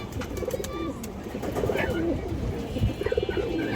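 Lively show-bred pigeons at a seller's loft coo in repeated soft throaty phrases, near and overlapping, with light rustling and clicks around them.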